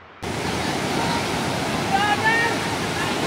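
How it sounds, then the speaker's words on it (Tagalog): Big sea waves whipped up by Typhoon Carina roar as a loud, continuous broadband surge after a brief quiet start, with faint voices barely audible beneath. "Laki ng alon!"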